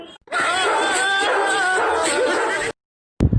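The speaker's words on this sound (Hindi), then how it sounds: "बस कुत्ते को भौंकता हुआ सुन लेती हूँ।" A single dog gives a loud, continuous yelping howl for about two and a half seconds, then falls silent.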